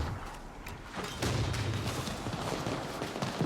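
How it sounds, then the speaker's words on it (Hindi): Firecrackers go off in the zombie video game Dying Light, a dense, continuous barrage of crackling pops and booms, loud and sustained throughout. "भाई पटाखे चल रहे हैं"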